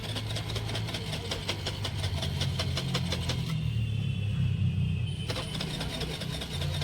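A vehicle engine that stalled partway through a morning trip is started again, with rhythmic, pulsing cranking for a few seconds that gives way to a steady, loud, close running rumble. No one speaks.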